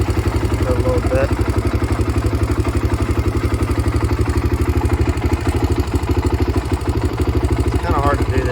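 A sport quad engine runs in a steady, rapid, close, loud low-pitched chug with an even mechanical pulse throughout.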